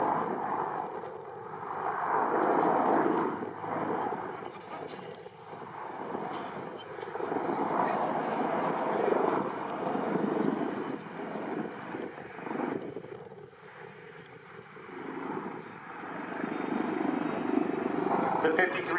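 A Sikorsky CH-53K King Stallion heavy-lift helicopter flies at the ILA 2018 air show, moving from forward flight into a quick stop. Its rotor and engines make a broad, pulsing rumble that swells and fades, with a voice faintly over it.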